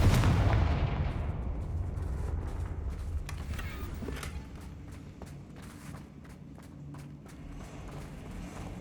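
A Confringo blasting spell in the Hogwarts Legacy video game explodes with a loud booming burst, its rumble fading over several seconds beneath scattered clicks and footstep-like taps.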